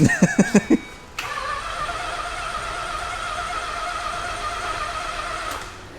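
A JDM car's engine cranks in a few quick bursts, then catches and settles into a steady idle that runs for several seconds before fading, heard close by with no talking over it.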